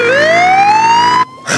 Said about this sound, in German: Sowas, ein Krankenwagen.